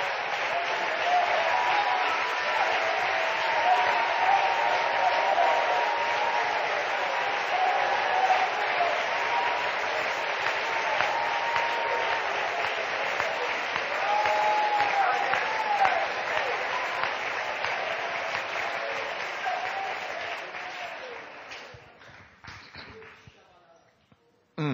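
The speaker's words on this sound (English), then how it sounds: "would you clap one more time" A church congregation claps together in a long, dense wave of applause with voices mixed in, holding steady for about twenty seconds before tapering off.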